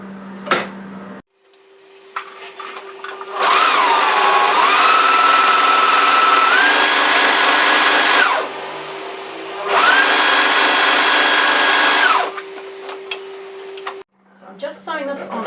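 A twin needle or cover stitch sewing machine hems fabric in two long bursts of steady mechanical whirring and rapid ticking, each lasting several seconds, separated by a short pause, with a little talk before and after.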